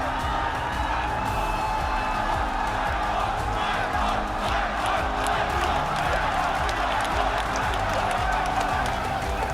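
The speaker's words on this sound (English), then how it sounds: "people are very loudly cheering for you" Large arena crowd cheering and roaring at a Dota 2 esports grand final in Singapore, a loud continuous wall of voices with whoops and some clapping, steady throughout.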